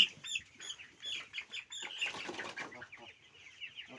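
Twenty-day-old broiler chickens flap their wings in short bursts while being weighed on a poultry farm, with soft clucks mixed in, fairly close and moderately quiet.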